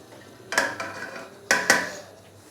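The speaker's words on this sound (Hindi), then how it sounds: "अभी मैं इसके ऊपर डालूंगा चावल।" Rice is spooned into a biryani pot over a layer of chopped coriander, mint and whole green chillies, making two sharp metallic clinks of spoon on pot about a second apart, each trailing a soft grainy rustle.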